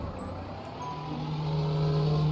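In Streamer Life Simulator, an old car's engine hums steadily while driving, its low drone rising slightly in pitch as it picks up speed.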